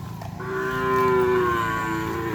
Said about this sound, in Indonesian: ada sapi baru lagi yang datang